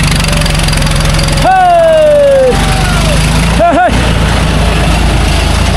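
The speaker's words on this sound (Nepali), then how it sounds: "ट्र्याक्टर आयो यहाँ।" A loud tractor engine chugs steadily up close on a rough road, its low rumble constant, while a couple of rising and falling whistling tones cut through briefly.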